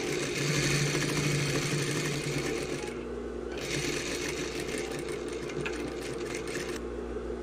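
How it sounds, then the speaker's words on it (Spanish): A sewing machine runs a steady, close, rapid stitching whir along the side seam of a tailored sleeve, with a short pause midway before it resumes. "Vamos a comenzar a cerrar a nuestra medida de costura, que es de 1 centímetro, y vamos avanzando por todo el costado."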